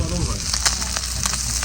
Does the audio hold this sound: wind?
no